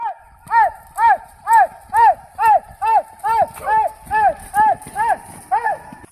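Horse hooves clip-clop in a steady, even rhythm, about two beats a second, close by and fairly loud, as riders herd bulls in a rural community.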